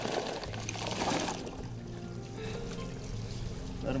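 Seized oysters are dumped from a boat back onto a reef at West Cove in the Delta, giving a broad watery splash and pour that settles into a steady trickle over a low engine hum.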